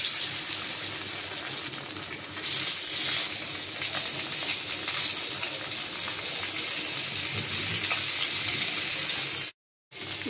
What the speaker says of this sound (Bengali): আর এই যে বাকি মাছটা ভেজে নেব।